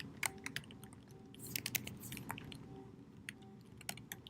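Quiet, irregular clicks of typing on a computer keyboard, scattered taps and short bursts of keystrokes close by in a calm room.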